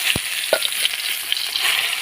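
Potatoes and pointed gourd fry in a pan with a steady close hiss and sizzle, punctuated by a couple of sharp clinks from stirring.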